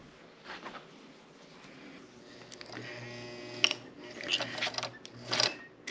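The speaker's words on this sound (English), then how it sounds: "let's go over to the sewing machine and stitch these three items" A sewing machine whirs in short bursts of stitching, its motor humming low, with a few clicks and handling noises between runs.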